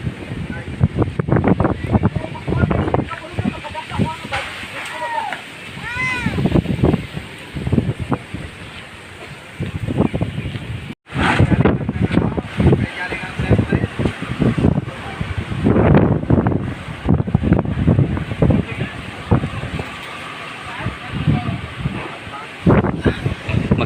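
Strong typhoon wind roars and buffets the microphone in loud, gusting surges, with a brief drop midway, while people talk over it throughout.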